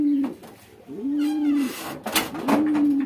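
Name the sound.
baby lakka pigeons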